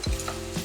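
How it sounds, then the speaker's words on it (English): Onions stir frying in a hot pan for salmon, a brief loud scrape of the spatula followed by a soft continuous sizzle, close up. "I put my onions straight away so I can stir fry."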